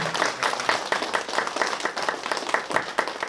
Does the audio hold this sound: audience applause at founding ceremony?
yes